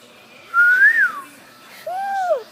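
Two separate mouth whistles, each a short rising-and-falling tone, fairly loud against a quiet room.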